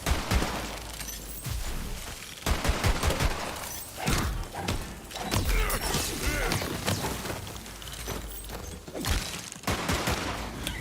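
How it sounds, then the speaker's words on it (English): Rapid gunfire in the looter-shooter Tiny Tina's Wonderlands played as a Clawbringer, with dense bursts of shots, thuds and crashes filling the whole stretch, loud and continuous with short pauses between volleys. "Blast them all! Don't do warning shots."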